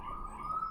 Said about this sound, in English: there is like there's sirens going off outside